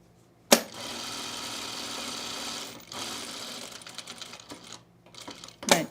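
A sewing machine stitches a dart on a bias-cut dress, running in a steady close whir for a couple of seconds, then in shorter bursts with a brief pause and clicks.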